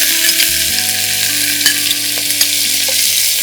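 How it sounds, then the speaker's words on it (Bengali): Chicken korma ingredients frying in ghee over a high flame, a loud, steady sizzle with occasional stirring scrapes throughout, no voices. "এটাকে হাই ফ্লেমে একটুখানি ভেজে নিতে হবে"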